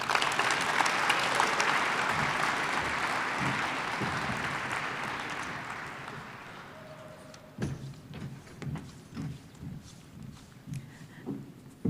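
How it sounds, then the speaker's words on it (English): Audience applause follows a mayor's speech at a city Black History program, a dense, steady wash of many hands clapping that slowly fades, then gives way to scattered claps and thumps in a quieter room. "Another round of applause, please."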